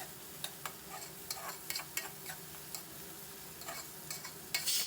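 Onions frying in a pan for a village-style dry fish curry, a faint steady sizzle broken by sharp scraping stirs and spoon taps at irregular intervals, close by with no talking.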